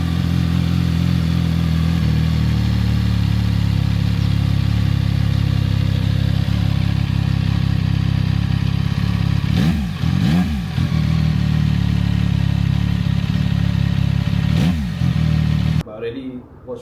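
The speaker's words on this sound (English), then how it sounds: "Yeah, the bike sound was tremendous, man. For a triple cylinder." A CFMoto triple-cylinder motorcycle being ridden, its engine a steady drone under wind noise with a few rising revs and passes near the end; a voice talks over it.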